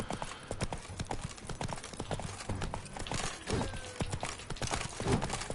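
Horse hooves clip-clop rapidly in The Witcher 3 during mounted combat, a busy stream of close hoof strikes mixed with game sound effects and a faint whinny.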